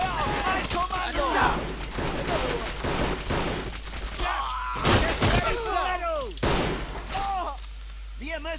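Musket volley fired on command in a video game: several sharp, loud bursts of gunfire land amid continuous speech and shouting, with two big blasts standing out near the middle and later.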